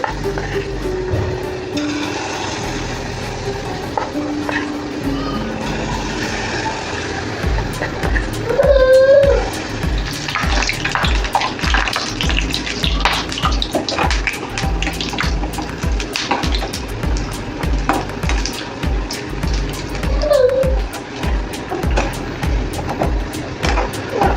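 Kadhi fritter balls sizzle in a pan of hot oil, producing a loud, steady, close hiss throughout with a few faint voice sounds.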